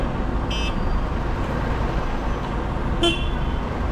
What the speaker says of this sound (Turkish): Bu biraz tır kornası gibi kalmış evet.